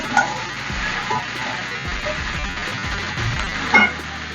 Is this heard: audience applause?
no